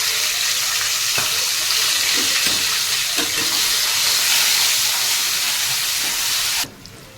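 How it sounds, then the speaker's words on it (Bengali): Flat beans frying in oil, a loud steady hissing sizzle with faint knocks underneath, holding evenly until it drops away abruptly near the end. "এবার সিমগুলোকে ভেজে নেব।"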